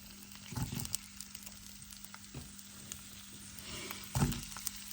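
Chili, onion and garlic fry briefly in a pan, giving a quiet steady sizzle with a few louder bursts of crackle and stirring, no voices.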